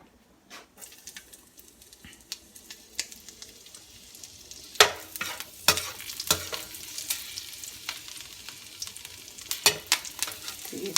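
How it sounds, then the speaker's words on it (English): Green chilies frying with cloves in hot oil, crackling and popping in irregular sharp bursts over a low background sizzle, growing busier after the first few seconds. "the green chilies are also popping"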